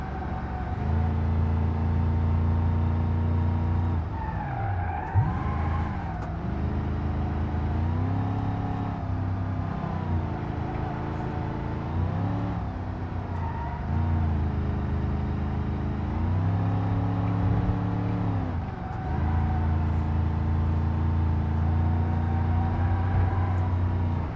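A simulated car engine in the video game BeamNG.drive hums and revs continuously, pitch rising and falling as it shifts gears and accelerates, steady and close.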